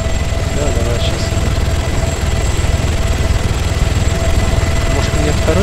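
Steady, loud low-frequency drone of a helicopter engine in the military game ARMA 3, running continuously throughout with faint voices in the background.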